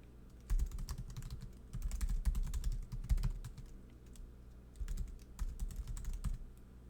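Bursts of rapid key clicks on a computer keyboard as a web address is typed, in several quick runs separated by short pauses, close and clear with no talking.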